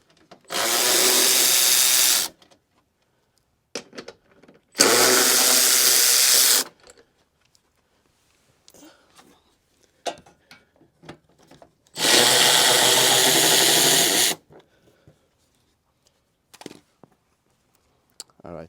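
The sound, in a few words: power drill removing 10mm headlight bolts on Hyundai Sonata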